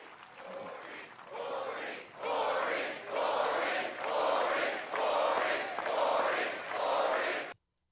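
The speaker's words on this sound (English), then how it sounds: "the crowd chanting Corey" A rally crowd at a Trump event in Butler, Pennsylvania chants a name in rhythmic repeated bursts, roughly one per second, building in strength and cutting off abruptly.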